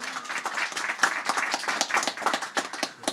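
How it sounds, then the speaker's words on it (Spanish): At a scissors dancers' festival, an audience claps for an honored woman in a short burst of brisk, uneven applause with distinct individual hand claps, moderately close. "Fuerte palmas para la señora."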